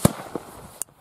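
Small New Year's firecrackers go off outdoors: three sharp, separate bangs within a second, the first loudest, the last a crisp crack followed by quiet.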